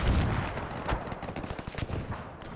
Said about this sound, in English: The machine gunners are peppering this guy.